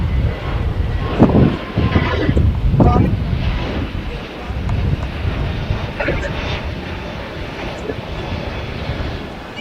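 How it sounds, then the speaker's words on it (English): Spirit Airlines Airbus A321-271neo departing LAX on the 25s runways, a broad steady jet roar that swells early then holds, heavily buffeted by microphone wind noise, while a person talks over it. "Just departing here on the 25s, ladies and gentlemen, was Spirit Airlines Flight 128 going to BWI Baltimore on an Airbus A321-271neo."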